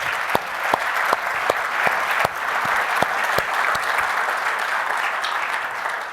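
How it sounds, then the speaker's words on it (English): A conference audience gives a sustained round of applause for the sponsors at a keynote event, a dense, even clapping that holds steady throughout with a few sharper individual claps standing out. "A big round of applause to all the sponsors."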